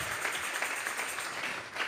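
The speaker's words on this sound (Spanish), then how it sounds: "Dele fuerte esas palmas al Dios de la gloria" A church congregation claps together in praise of God during a Spanish-language worship service, sustained dense applause at steady level filling the whole moment without talk.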